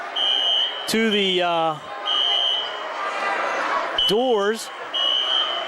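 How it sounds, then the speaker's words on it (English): Fire alarm blaring inside a gymnasium during a high school boys basketball game, a steady high electronic tone and intermittent buzzing over crowd noise, with a commentator talking and alarm bursts returning near the end. "This must be a fire alarm, I believe."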